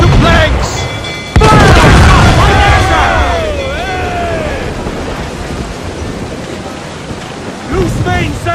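Ship cannon fire during a naval battle in Assassin's Creed IV Black Flag: one heavy, close boom bursts out and rolls into a long rumbling decay, with shouting voices and battle noise around it.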